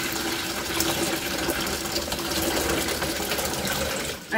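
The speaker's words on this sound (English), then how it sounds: "I added the hot water and the cold water together" Hot and cold water pour steadily into a basin for washing raw fleece, a continuous close splashing rush that holds level for several seconds before cutting off at the end.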